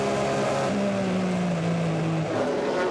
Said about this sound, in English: The two GTS cars go by.